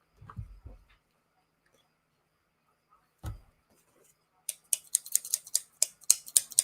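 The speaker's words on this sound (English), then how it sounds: "I'm trying to cut them quickly" Quick scissor snips cutting items for a giveaway draw: a brief early thud and one mid clip, then a rapid run of crisp, close snipping clicks filling the last two seconds.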